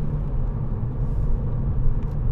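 A 2017 Volkswagen Scirocco 1.4 TSI BlueMotion Tech GT Black Edition driving around a roundabout in second gear, heard from inside as a steady low engine and road rumble, with no talk.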